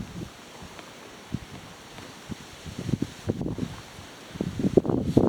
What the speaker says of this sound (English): wind is blowing pretty hard